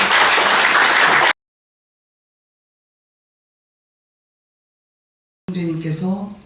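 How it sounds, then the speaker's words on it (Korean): Audience at a Korea-US business friendship forum claps warmly as a lawmaker is welcomed to the stage. The dense applause is cut off after about a second, then a long gap of silence follows before a voice starts speaking. "열렬한 박수로 환영해 주시기"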